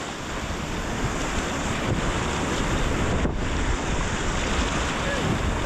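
Whitewater rapids on the Roaring Fork River in Colorado roar as a dense, steady rush of churning water, loud and close, heavily buffeted by wind noise on the microphone.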